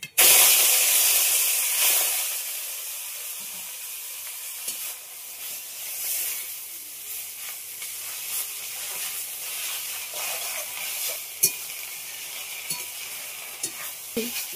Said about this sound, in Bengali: বন্ধুরা এই শাকটা ভাজা হচ্ছে